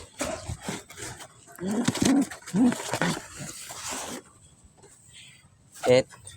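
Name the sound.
pigeons cooing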